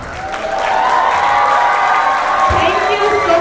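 A stage celebration audience applauds and cheers, sustained clapping swelling into a loud, dense roar with shouts and whoops mixed in, continuous to the end.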